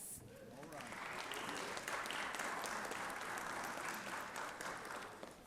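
Applause in the Georgia Senate chamber at the Capitol honoring Delta Days, a room of clapping that swells quickly to a sustained, even roar and then begins to taper off.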